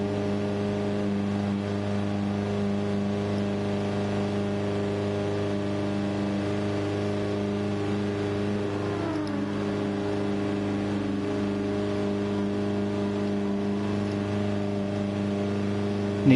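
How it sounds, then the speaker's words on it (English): Engines of race cars in a Gran Turismo 7 Super Formula SF19 video game race produce a constant, moderately quiet droning hum that holds steady throughout, with no talk. "Apologies for the annoying engine noise in the background, it'll be over in a wee second."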